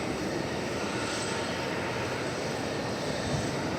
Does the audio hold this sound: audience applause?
no